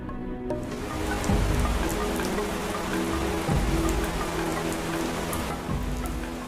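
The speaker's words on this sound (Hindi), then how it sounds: "ये बरसात की शुरुआत है।" Rain falling steadily at the start of the rainy season in a jungle, a loud, continuous hiss of drops on surfaces with a few heavier low thumps mixed in, with no voices.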